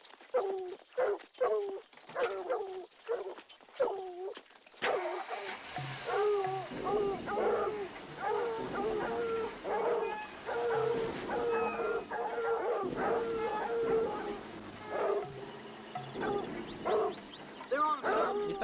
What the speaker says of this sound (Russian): В этот раз с нами собаки.